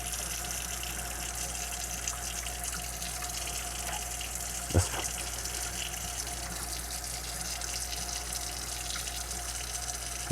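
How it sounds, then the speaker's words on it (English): Kitchen tap runs steadily into a sink as black beans are strained, a constant close rush of water with one brief knock partway through and no talk. "you wanna strain your black beans, right? Just strain those out. All right, get that water going."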